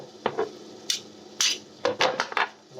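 Guacamole being stirred in a bowl, with scattered clinks and scrapes of a utensil against the dish, several sharp taps spaced irregularly, close and fairly quiet.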